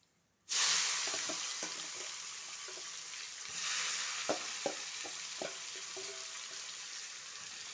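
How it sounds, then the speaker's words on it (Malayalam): A sudden burst of loud sizzling as tapioca pieces hit hot oil, settling into a steady hiss with occasional clicks and taps. "ബാക്കിയുള്ള കപ്പയ്ക്കും കൂടെ ഞാൻ വറുക്കാം"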